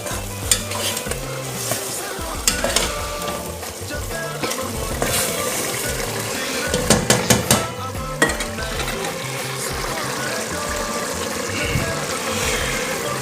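Stock cubes being stirred into a cooking pot of beans, a steady run of scraping, sizzling and clinking of a utensil against the pot that carries on throughout, with a few sharper knocks and no talking.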